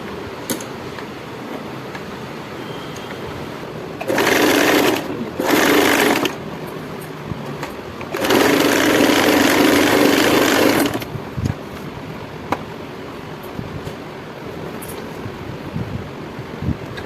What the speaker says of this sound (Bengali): এই হিপ জয়েন্টটা সেলাই করে নিচ্ছি।